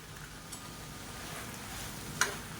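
Mint, coriander and grated coconut are stir-fried in a pan, giving a faint, steady sizzle with a couple of soft stirring scrapes and no voices.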